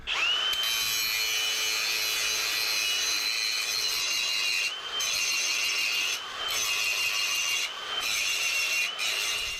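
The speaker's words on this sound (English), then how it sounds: "Grind it down the whole lip and then chamfer the edge." A grinder works down the lip of a new brake rotor for a 1971 Ford Mustang, a loud, close, continuous high-pitched grinding whine that dips briefly several times as the tool eases off, with no talking.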